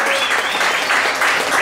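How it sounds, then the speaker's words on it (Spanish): Audience at a rock band's concert in a small club hall applauds steadily, a dense continuous wash of clapping and cheering that fills the space, with a voice briefly heard over it. "Un aplausito, por favor."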